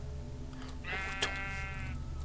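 A Minecraft sheep gives a single wavering bleat of about a second over a steady low game hum, clear and close, with no talk.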